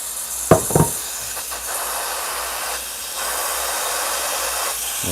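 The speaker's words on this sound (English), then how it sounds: "Start the steam." Breville Barista Express steam wand steaming coconut milk: a couple of brief knocks near the start, then a steady hiss of steam that runs alone to the end, growing slightly louder partway through.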